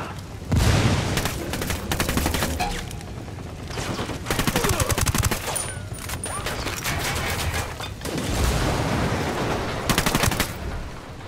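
A frag grenade goes off amid sustained gunfire in Ghost Recon Wildlands, with loud bursts of rapid automatic shots in several waves and booming impacts, close and intense, with no talk.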